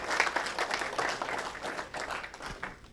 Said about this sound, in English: let's give those students one more round of applause